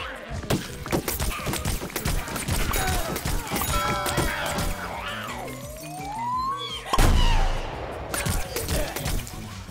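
Gunfire in Plants vs. Zombies Garden Warfare, rapid repeated shots and sharp impacts throughout, mixed with whistling game effects and a louder crash near the end, with a voice talking over it.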